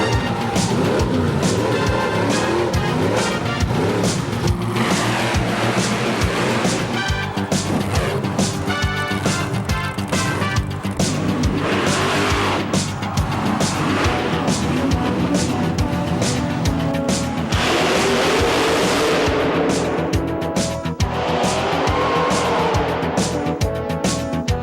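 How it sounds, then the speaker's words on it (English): A monster truck drives with a loud, continuous engine roar that rises and falls as it revs, with tire noise and skidding bursts throughout, heard close and alone without talk. "strap in and hold on tight, because there goes a monster truck"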